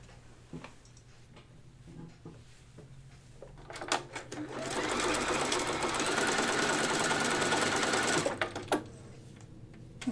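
A sewing machine stitches buttonholes on a dress, starting with scattered slow clicks, then running fast and steady for about four seconds before slowing to a few last stitches, close and alone.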